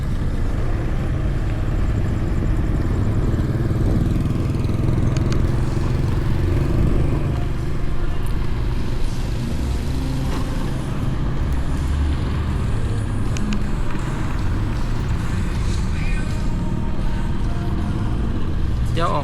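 A motorcycle rides through traffic in Vientiane, with a steady engine drone and road rumble and other vehicles passing nearby, while someone talks over the noise.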